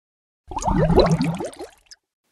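Water poured in a brief splashing burst for about a second and a half as part of a homemade snow-making experiment, close and fairly loud, fading with a few final drips.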